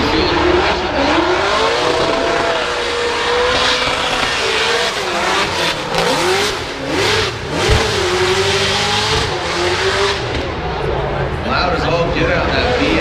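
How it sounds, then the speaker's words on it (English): A Mercedes drift car's V8 revs loudly at a Formula Drift event in Long Beach, the engine note rising and falling continuously through a run under the steady roar of the track, with a commentator talking over it. "Get out that V8 under the hood of this Mercedes"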